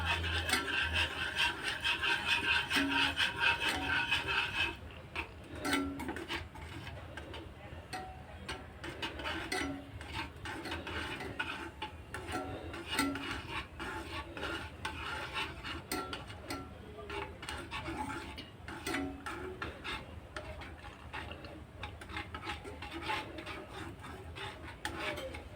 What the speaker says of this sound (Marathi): मिश्रण चांगलं ढवळून घट्ट होईपर्यंत घ्यायचं.